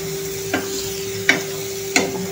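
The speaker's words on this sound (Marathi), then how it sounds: "त्याच्यासोबतच आपण हा मसाला पण परतून घ्यायचा आहे छानपैकी" Ridge gourd stuffed with masala being stirred and sautéed in a pan, with three distinct scraping stir strokes over a steady low sizzle.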